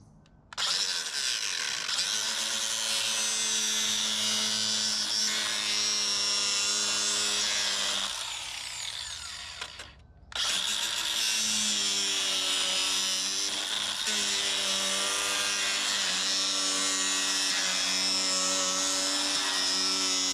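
An angle grinder cuts polycarbonate corrugated plastic shed roofing, a loud continuous high whine with a steady harmonic drone that drops briefly near the middle, then resumes at full strength to the end, close and without talk.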